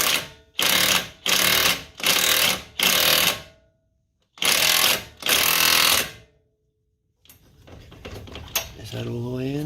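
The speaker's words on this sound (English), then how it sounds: "you take your impact wrench if you have it, and it will just pull the stud in" An impact wrench pulling a wheel stud into the hub of a 2016 Kia Forte, seven loud, close hammering bursts of about half a second each in two groups, then a pause before people talk.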